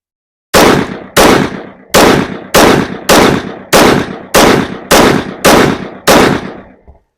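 Ten sharp, loud shots from a Smith & Wesson M&P 5.7 pistol, fired rapidly at an even pace, each crack ringing briefly before the next, then silence.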